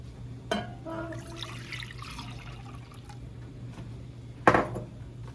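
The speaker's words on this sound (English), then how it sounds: "we're going to start off with 3 cups of milk." Three cups of milk poured into a bowl for banana pudding, a soft liquid pour framed by two sharp clinks of a cup against the bowl, close and clear.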